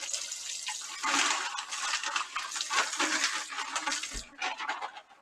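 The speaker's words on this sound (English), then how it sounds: "I'm going to put water in the bag" Water splashes and gushes into a bag from a running tap in a kitchen, a close, busy, fluctuating pour lasting several seconds with a short pause near the end.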